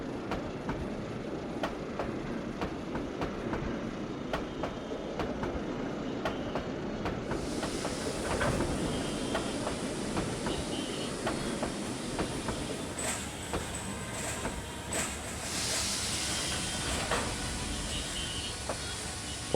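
Parabat Express train rake being shunted at Kamalapur, with a steady rumble of rolling rail cars and sharp repeated wheel clicks on the track running throughout, joined by a hissing rise in the later part.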